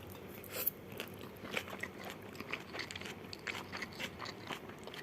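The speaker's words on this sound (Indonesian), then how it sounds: "Kita cobain oncomnya, ini enak banget loh, sedep." Close, quiet crunchy bites and chewing of fried red oncom, a series of small crisp crackles over about five seconds with no talking.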